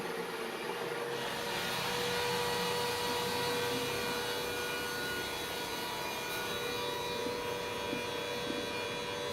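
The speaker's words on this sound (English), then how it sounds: "You can now hear the sound coming through, water traveling through the pump," A grey water pump runs steadily as water moves through it from a bath to a toilet, giving a continuous close whirring rush with a faint tonal hum and no talking.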